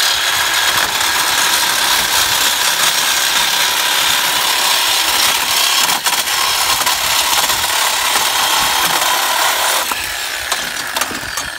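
An old trailer is being cut up with a power tool, producing a loud, unbroken grinding, sawing roar that runs nearly the whole time and eases slightly near the end.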